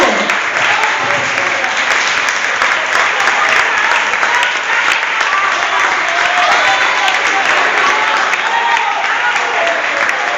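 Church congregation applauding at an Assemblies of God service, a dense, steady wash of clapping that fills the whole stretch at full loudness, with indistinct voices mixed into the crowd noise.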